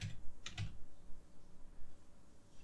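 Computer keyboard typing during Python GeoPandas coding work, a quick burst of a few close key clicks early on, then quiet room tone.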